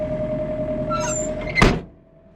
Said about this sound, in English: There's the door shut.